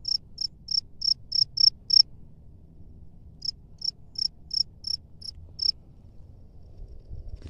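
A cricket hidden in a burrow in rice-field soil gives two runs of sharp, evenly spaced chirps, about seven in each, split by a short pause over a quiet outdoor background.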